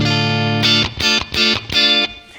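Clean tone of a Squier Telecaster electric guitar with a 4-way series wiring mod: a sustained note followed by four strummed chords in a steady rhythm, loud and close, played alone.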